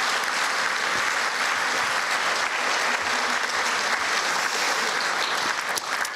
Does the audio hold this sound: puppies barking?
no